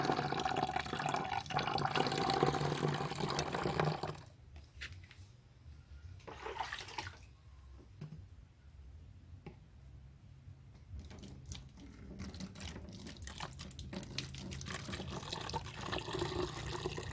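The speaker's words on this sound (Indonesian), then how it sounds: "terus kita isi air" Water running from a tap to fill a container: a loud steady gush that stops, leaves a few brief splashes and drips in quiet, then flows again steadily.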